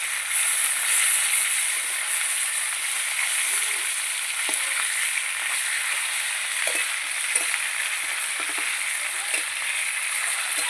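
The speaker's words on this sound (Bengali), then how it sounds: "এবার মাছগুলো ভাজবো" Snakehead fish pieces frying in hot oil in a pan, giving a loud, steady, close sizzle that runs without a break, with a few soft knocks underneath.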